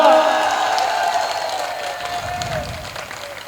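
Applause and cheering from the audience at a Hindi hasya kavi sammelan comedy poetry show, a steady crowd roar that holds loud throughout and eases slightly toward the end, with no speech over it.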